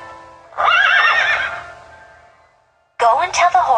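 A horse gives a loud, close whinny with a rising and falling pitch, then falls quiet before a second shorter neigh; the setting is a Barbie in the Nutcracker scene.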